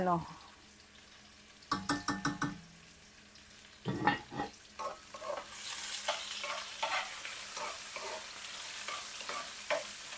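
Onions sauté in a pan, opening with sharp clicking stirs and scrapes of a utensil, then settling into a steady, soft sizzle broken by intermittent stirring taps.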